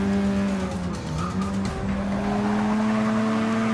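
Race cars in Forza 6 break traction with sustained tire squeal over a loud, steady engine drone, the skid rising and shifting pitch as the car slides.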